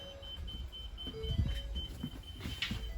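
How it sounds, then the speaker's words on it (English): A rapid, evenly spaced electronic warning beep from the levelers of a 2022 Sunseeker 3010 DS RV with the ignition on repeats throughout at a steady pace, fairly faint over a low rumbling background. "Now your levelers don't like when that ignition's on, so that's why it's beeping right now."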